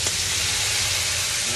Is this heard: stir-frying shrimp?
yes